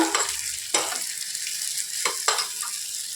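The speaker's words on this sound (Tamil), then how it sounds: "நறுக்கி வச்ச சின்ன வெங்காயம் போட்டு நல்லா பொரியட்டும்" Chopped small onions sizzling and sautéing in hot oil for a ridge gourd dish, a continuous close hiss with a few sharp stirring scrapes and bursts of crackle.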